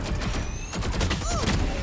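A grenade goes off in a tactical shooter game as a dense burst of gunfire-like crackle, with whooshing ability effects mixed through the steady, busy game noise.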